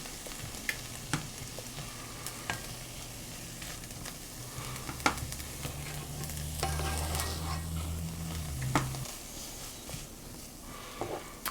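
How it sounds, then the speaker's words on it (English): Vegetables sizzling steadily in a pan for a vegan chickpea shakshuka, with stirring scrapes and clicks over the constant frying hiss. "saute it for another minute before I add in the other vegetables"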